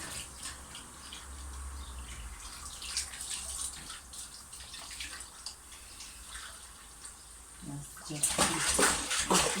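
Water runs from a tap into a bathroom sink during a children's water fight, a steady splashing stream that grows louder and brighter near the end, with voices faintly present.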